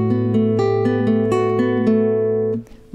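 Slow guitar playing of bar 26 of the lullaby "Nezhnost", a steady sequence of about eight plucked notes alternating fingers, ringing close and clear until they cut off just before the end.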